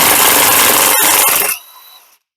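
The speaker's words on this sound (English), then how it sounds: "I got a 22 millimeter socket on my impact to go ahead and remove this" An impact wrench with a 22 mm socket removing a nut on a Yamaha Grizzly 660 ATV clutch, a loud rattling hammering burst of about one and a half seconds that stops abruptly, followed by a faint ring, no talk.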